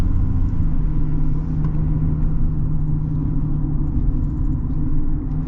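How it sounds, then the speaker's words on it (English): A 2024 Chevy Silverado ZR2 with the small Duramax diesel drives along, its engine and turbo giving a steady, close low rumble with a mild hum throughout and no talking. "I like the sounds the little Duramax makes. You get some like cool turbo sounds and everything."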